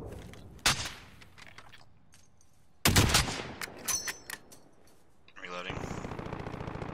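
Rifle fire in the tactical shooter Squad: a sharp shot, then a close burst of several rapid shots a couple of seconds later, followed by quieter rattling and clatter; a voice speaks over parts of it.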